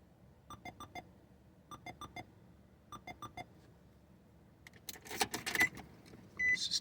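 A key worked in the ignition of a 2006 Nissan Altima with a faulty throttle body: three spaced groups of quick clicks and chimes, then louder rattling and jangling of the key with short electronic beeps near the end, no engine starting.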